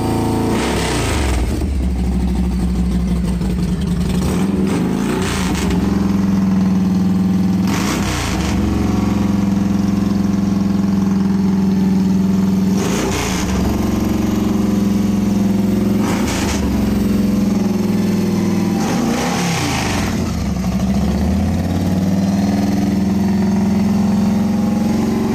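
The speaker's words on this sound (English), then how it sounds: "This is my neighbor's Harley Davidson Fat Boy." A Harley-Davidson Fat Boy motorcycle engine idles with a deep, loping rumble and is blipped into several revs spaced a few seconds apart, loud and close with no talking.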